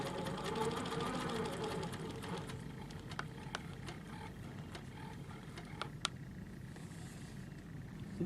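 A Handi Quilter sewing machine stitches steadily across a quilt, a continuous motor hum with fine rapid needle clicks, close and moderately loud, with a few sharper ticks near the end.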